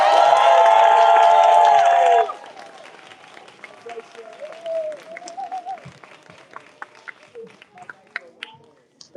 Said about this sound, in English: Let's give Joshua Daika Performance another big round of applause